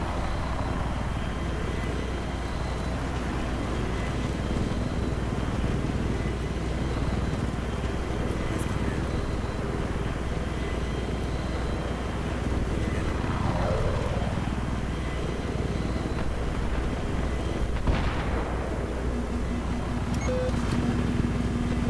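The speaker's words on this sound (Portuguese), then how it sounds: "Um helicóptero lá, lá longe." A helicopter drones far off in Battlefield 3, its low rotor rumble steady beneath in-game ambience, with occasional brief whooshes and tonal effects passing through.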